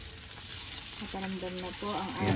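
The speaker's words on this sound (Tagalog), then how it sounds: "ganyan po ang aming prito" Boneless danggit, a dried fish, frying in a pan gives a steady, close crackling sizzle beneath conversational speech throughout.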